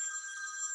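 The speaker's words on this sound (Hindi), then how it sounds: "मेरा फोन कहीं बज रहा है।" A mobile phone rings at a Braj Bhasha ghazal book launch, giving a brief steady electronic tone with sustained high pitches, heard alone for under a second.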